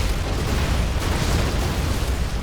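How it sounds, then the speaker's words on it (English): A Scud missile strike hitting production buildings in Generals Zero Hour, a dense, continuous roar of explosion and rumbling debris, loud and sustained throughout. "we've got a scud fired now from Big SiZe. Or 2 scuds fired here from Big SiZe"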